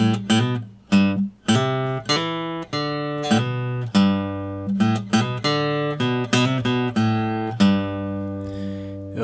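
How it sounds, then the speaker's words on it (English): Guitar playing a riff with subtle quick hammer-ons, clear close single-note phrases ringing out alone without talk. "adding in a very subtle hammer-on technique to specific notes. It'll sound like this."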